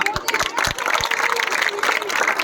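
Scattered applause from a small group gathered to honour a young athlete after a 3000 metre race, with a few sharp claps standing out over crowd chatter and nearby voices.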